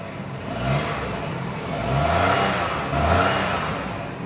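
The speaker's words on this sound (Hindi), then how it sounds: "अब मैं आपको इसका थ्रॉटल रिस्पॉन्स चेक करवा देता हूँ। आवाज़ सुन लीजिएगा इसकी" A 2007 Suzuki Wagon R Stingray engine is revved in repeated throttle blips from a steady idle, three rising surges that swell and settle back, close and fairly loud with no talking.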